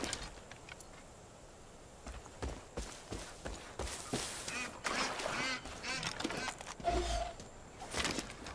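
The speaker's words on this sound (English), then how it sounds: "Oh, a duck." A duck quacks in the video game Far Cry 5, a few short calls over a busy, noisy game ambience with rustling and background sounds, no clear speech.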